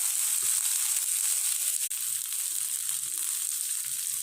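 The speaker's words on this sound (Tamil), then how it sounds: "கடுகு பொரிஞ்சோடனே இந்த வெண்டைக்காவை போட்டுக்குவோம்" Okra tossed into hot oil with popping mustard seeds, chana dal and urad dal gives a loud, dense, continuous sizzle heard up close with faint crackles underneath.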